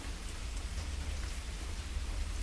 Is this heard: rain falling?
yes